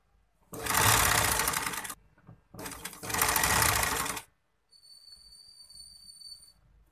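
A sewing machine stitches a sleeve onto the shoulder of a kameez in two loud, steady bursts of rapid whirring with a short pause between, then a faint high whine once the machine stops.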